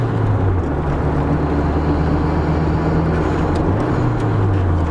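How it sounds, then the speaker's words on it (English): A Nissan Sileighty S13 exhaust rumbles low and steady, loud and close, with a slight shift in tone partway through. "the exhaust note is actually really good"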